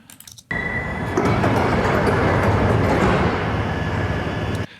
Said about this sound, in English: we have all the doors of the long train closing at the same time